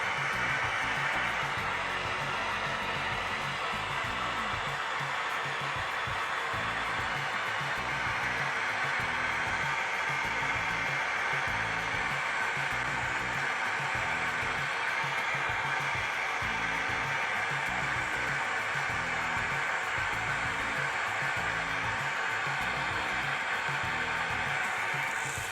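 Gas torch flame roars steadily as it preheats the pouring lip of a crucible while melting silver solder, a loud continuous broadband rush with no pauses and no voices.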